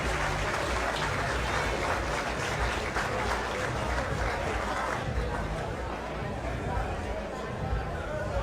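Crowd at a fight event applauds and cheers after a bout, a steady dense wash of clapping and chatter with someone talking over it throughout.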